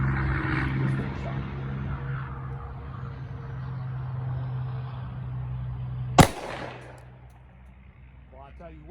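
Single close, loud shot from a Glock 32c pistol firing .357 SIG rounds outdoors, one sharp crack over steady background noise with a short trailing echo.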